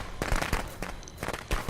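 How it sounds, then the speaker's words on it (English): Firecrackers set off in the horror game Friday the 13th crackle in quick, uneven clusters of sharp snaps, pausing briefly in the middle before another burst, at moderate distance with no talk. "That's the good thing about firecrackers, is that they have an animation where they do not have the actual fire part. They just have the crack part"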